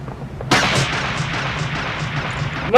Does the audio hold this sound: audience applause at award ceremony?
no